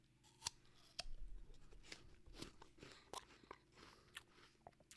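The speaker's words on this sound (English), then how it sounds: "Make sure I get all those chewing sounds on the mic." Crisp bites and crunchy chewing of a crispy honey apple, close to the microphone, with sharp individual crunches followed by irregular chewing, no talking.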